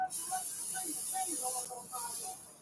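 Avocado oil cooking spray hisses from a can into a muffin tin for taco cups in one long continuous burst, close and loud, easing off briefly before resuming.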